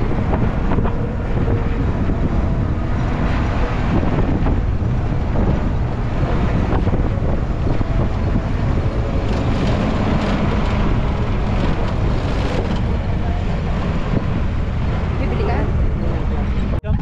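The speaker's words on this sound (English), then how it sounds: "we are now riding the vintage Land Rover and we are heading to the campsite" Vintage Land Rover driving across the Dubai desert toward a campsite, a constant loud engine and wind rumble buffeting the microphone throughout, with no clear speech over it.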